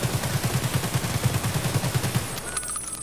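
Automatic gunfire in the video game Escape from Tarkov, a rapid, even burst of about two seconds, loud and close, then a short fading tail.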